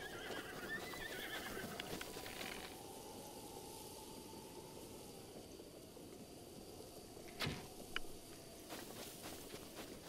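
A horse in the video game The Legend of Zelda: Breath of the Wild neighs faintly under a steady rumbling game ambience, followed by a few sharp impact-like sounds.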